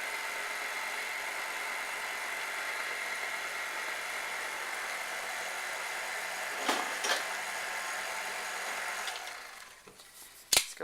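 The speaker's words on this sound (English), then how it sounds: "let's mix this on a very low speed" An electric mixer on very low speed blends dry ingredients into pumpkin roll batter with a steady, even motor hum, then stops near the end with a couple of clicks and a clunk.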